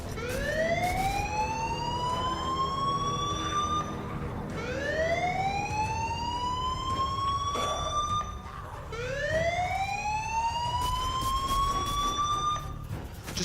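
Emergency sirens wail in Fortnite, three long rising sweeps in turn, loud and close over a low rumble of game sound.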